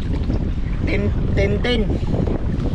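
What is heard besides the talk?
strong wind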